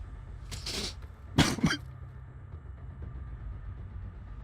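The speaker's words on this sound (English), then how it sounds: "Lots of coughing." Two short coughs, one around the middle of the clip followed by a pair of quick bursts, against a low steady background hum.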